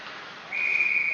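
A referee's whistle at a high school hockey game sounds as one sustained shrill tone, starting midway and holding steadily over the hum of the rink.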